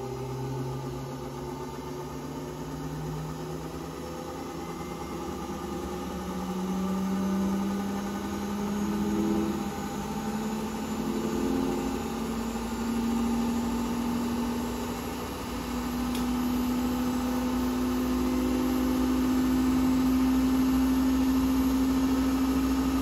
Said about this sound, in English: On to the next test. That's going to be the accelerated spin.